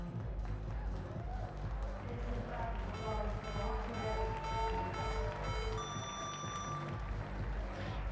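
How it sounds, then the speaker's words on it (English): Electronic countdown beeps pulse in the final seconds of a dock diving round at a semi-final competition, bright repeated tones over steady crowd and arena noise. "Frantic beeping as the last couple of seconds come."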